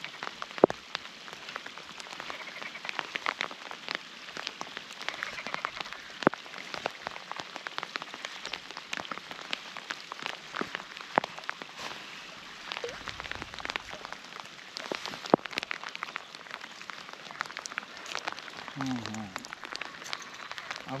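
Steady rain patters on water during perch fishing, a soft continuous hiss of drops with scattered faint taps and quiet voices at a distance.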